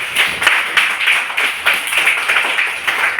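Several people clapping in a steady run of claps, fairly close and bright, with no talk over it.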